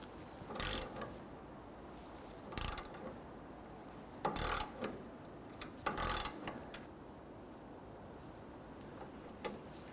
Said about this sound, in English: Let's go ahead and torque down the sway bar end link nuts to 62 foot-pounds.